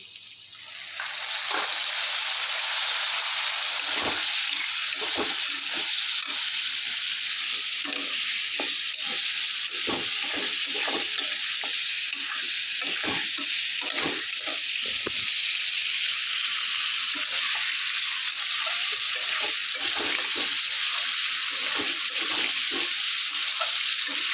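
Steady, loud sizzling of spicy masala pork curry frying in a pan after a little water is added, a continuous hiss with scattered stirring clicks and scrapes and no talk.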